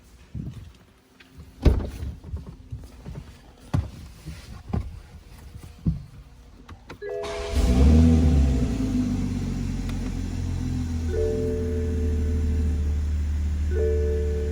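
A car starts after a Visconti flex fuel install: scattered clicks and bumps, then the engine cranks and catches into a loud, steady idle rumble that continues to the end.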